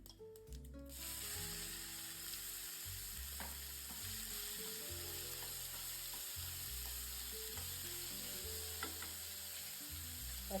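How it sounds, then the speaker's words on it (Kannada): Mustard seeds, cumin, chana dal and onion are tempered in hot oil for puffed-rice mandakki oggarane, producing a faint, continuous frying hiss and light stirring over soft background music. "ಎಣ್ಣೆ ಕಾರಿದೆ, ಸಾಸಿವೆ ಹಾಕ್ತಾ ಇದ್ದೀನಿ."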